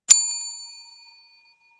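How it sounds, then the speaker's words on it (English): Single strike of a small meditation bell, a clear bright ding with a long ringing tone that fades out over about a second, heard alone. "now bell, as I call it, to bring your awareness back into the present moment"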